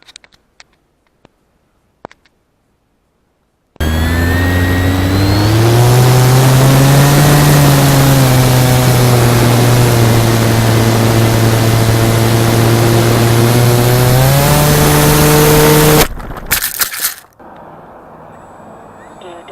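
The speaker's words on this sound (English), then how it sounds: "Taking off." A Durafly T-28 V2 RC plane's electric motor and propeller spin up loudly with a steady, rising whine and hold near full power for about twelve seconds, then cut off abruptly; faint clicks come before it and a quieter hum follows.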